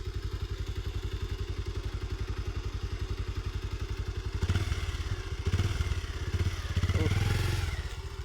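A motorcycle engine putters in a steady rapid rhythm nearby, then revs up in a few short surges as the bike turns.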